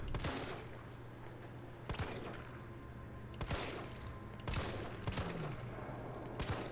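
Gunshots fired in Resident Evil 3 Remake, sharp loud blasts spaced roughly every second or so over a steady low game hum, with no talking.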